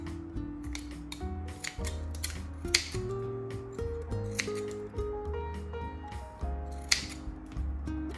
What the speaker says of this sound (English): I'm going to cut about 6 pieces that are 3 inches long